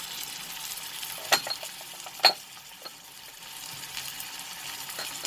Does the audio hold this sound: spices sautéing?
yes